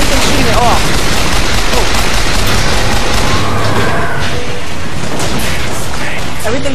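Rapid gunfire and explosions in the shooter game BioShock Infinite, a loud, dense barrage of shots and booms that continues throughout, with a voice talking over the battle.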